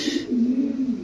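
Pigeon cooing, a single steady low coo held for about a second, close and clear with no talk.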